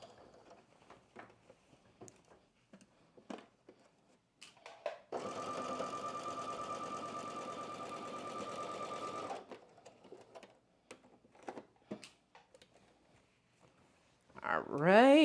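A domestic sewing machine stitches a McCall's 8386 spring top in one steady run of about four seconds, flanked by quiet handling clicks and rustles before and after.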